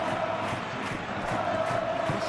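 Stadium crowd in the football video game Football Life 26, a steady roar of cheering and applause filling the whole clip at moderate volume with no break.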